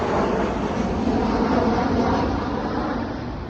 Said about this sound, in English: oh, hello, airplane.